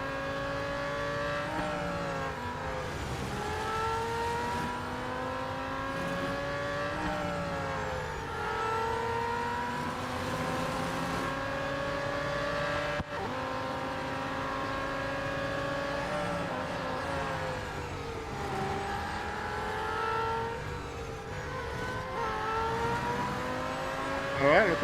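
Race cars in the mobile game Real Racing 3 whine and rev steadily throughout, engine pitch rising and falling with gear changes at a moderate level.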